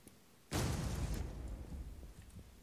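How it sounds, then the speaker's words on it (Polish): A car explodes in the video game Infestation: Survivor Stories, a sudden loud blast bursting in after a quiet moment and then rumbling and crackling as it slowly fades. "O kurde, mój wybuchł samochód."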